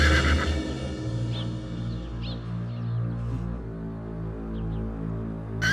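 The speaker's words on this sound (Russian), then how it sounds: "И белый конь здесь." A white horse whinnies once over a steady low drone, a near, fairly loud neigh with a few faint trailing calls, and no talk.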